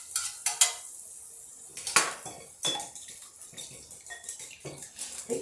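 Eggs in butter pushed around a hot pan for a breakfast sandwich, with scraping, clattering utensil and pan hits and a soft sizzle underneath, nearby and fairly quiet.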